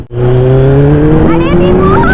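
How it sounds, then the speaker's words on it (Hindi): A superbike motorcycle engine revs up loudly at the start of a ride, its pitch climbing steadily and close by, while people talk over the roar. "अभी तुम्हें सुपर बाइक का सैर कराते हैं हम"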